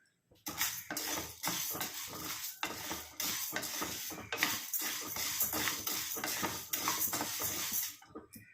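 Urad dal roasting in a pan for Devanga Chetty pappu billalu, a ladle or spatula scraping and stirring in steady repeated strokes with light sizzling and clinking of the pan, close and fairly loud with no talk.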